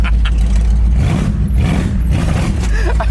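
A Cadillac engine with leaky fender-exit exhaust runs loud and close, a raw, rough rumble that rises and falls slightly.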